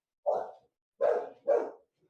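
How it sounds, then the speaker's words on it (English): Three loud, close dog barks, one then a pause and two more in quick succession, with no talk. "dogs are angry"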